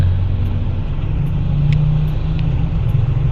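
Steady road traffic on the approach toward Laoag City, a continuous low engine rumble of cars and vehicles idling and creeping forward, fairly loud and close, with no talk over it.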